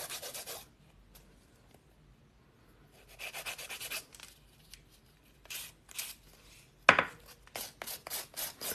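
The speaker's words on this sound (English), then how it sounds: "filing this Humpty Dumpty nail that I created" A fingernail being filed during a 3D Halloween nail art session, heard as short, close, scratchy strokes in bursts with quiet pauses between them, faint at first and then more frequent.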